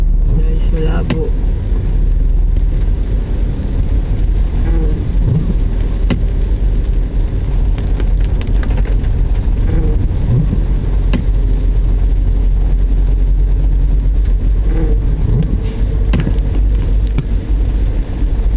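Heavy rain falls steadily, making a loud, continuous wash of noise broken by occasional sharper knocks and rustles.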